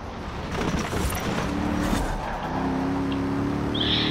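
A Mercedes engine drones in Forza Horizon 4, a steady mid-level hum with rising and settling tones as the car accelerates and holds speed, joined by a brief high whine near the end.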